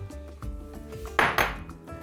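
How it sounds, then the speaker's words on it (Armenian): A plate is set down over dolma stuffed with chopped dried fruit in a pot, giving two close, sharp ceramic clinks in quick succession, with softer handling clatter around them. "ծածկում ենք ափսեով"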